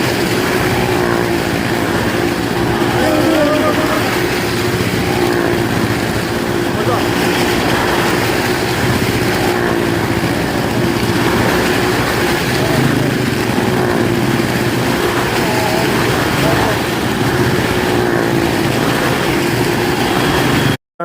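Two cars circle together inside a carnival well of death at Nilambur, their engines droning steadily and loudly in a continuous buzzing whine that never lets up, with a crowd's noise mixed beneath.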